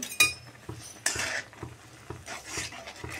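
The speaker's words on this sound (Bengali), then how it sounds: "এখন আবার ভালো করে সব মিশিয়ে নেব।" A rice flour mixture for sandesh is stirred in a pan with a utensil, giving repeated scraping strokes and light metallic clinks, close and fairly quiet, with no talking.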